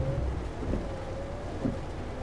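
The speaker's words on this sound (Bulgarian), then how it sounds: "А, така и дъжд." Steady rain hisses down in the truck-driving game Euro Truck Simulator 2, an even wash of drops with a low, constant engine hum underneath and a couple of soft rumbles.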